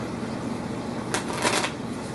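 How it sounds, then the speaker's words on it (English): A deck of oracle cards is shuffled during a spiritual reading, a brief riffling burst of papery flutter rising out of a quiet room hiss, close and moderately loud, with no talking. "I am going to shuffle in front of you"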